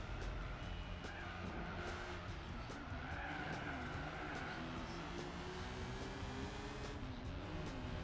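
Race cars in the Gran Turismo 4 Japan Championship, including a Subaru Impreza and Nissan Skyline, with a continuous engine drone, shifting revs and tire squeal, no talk.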